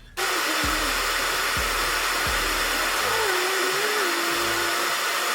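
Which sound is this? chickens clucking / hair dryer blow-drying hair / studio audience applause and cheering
hair dryer blow-drying hair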